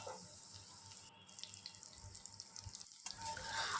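Water is poured into a pan of potatoes cooked in spiced masala for mutton curry, a continuous splashing pour close by with no one speaking.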